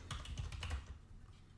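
Rapid clicks of typing on a computer keyboard, a quick burst of close keystrokes that stops partway through, leaving quiet.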